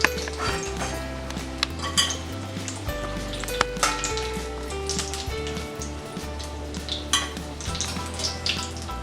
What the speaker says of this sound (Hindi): पफ हमारे फ्राई करके हो गए हैं।